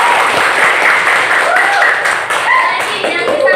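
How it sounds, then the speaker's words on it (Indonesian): Students in a classroom clap together in a loud, dense burst of applause that holds steady throughout, close and bright, with some chatter mixed in. "Oke, tepuk tangan dulu buat kalian."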